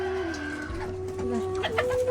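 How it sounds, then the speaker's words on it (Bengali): Chickens cluck and murmur close by in a busy farmyard chorus, with a rooster-like call rising near the end. "এগুলা সব মুরগি এই সাইডে এই যে এদিকে"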